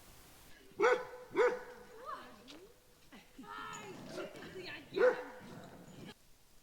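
Dogs at a campsite on Vancouver Island bark a few times: two sharp barks close together, a pause with some quieter sounds and talking, then another loud bark.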